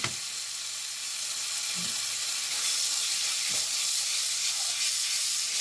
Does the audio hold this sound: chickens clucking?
no